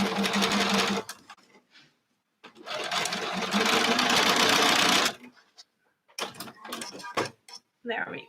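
Bernina sewing machine fitted with a 97 foot stitching a quarter-inch quilting seam, heard in two steady whirring runs of a few seconds each, followed by short bursts of handling sounds.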